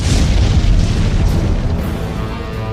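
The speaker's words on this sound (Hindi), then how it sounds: "पहला धमाका।" A loud, deep bomb blast in a city street, first of a series in Ahmedabad, booming low and heavy then slowly decaying into a rumbling tail with no speech.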